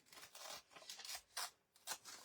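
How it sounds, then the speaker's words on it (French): Sheets of paper torn by hand for a winter greeting card's background, a series of rough ripping bursts of varying length, close and fairly quiet with short gaps between tears. "Pour une fois, vous avez le droit d'arracher du papier."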